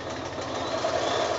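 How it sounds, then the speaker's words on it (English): A sewing machine stitches an elastic strap near a buckle on a quilted project bag, giving a steady, close mechanical hum and whir with a fine rhythmic pulse that runs unbroken for the whole short stretch. "just stitch where your machine is comfortable nearby"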